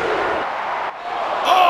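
Crowd roar from a WWE wrestling video game arena, a steady loud wash of cheering across the whole stretch, swelling near the end with a sharp slam-like hit.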